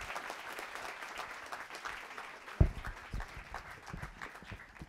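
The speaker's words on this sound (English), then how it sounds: "let's give Smile Child one more round of applause" Audience applause at a student startup pitch finale, a moderate round of clapping from a crowd with one sharp thump midway, continuing steadily to the end.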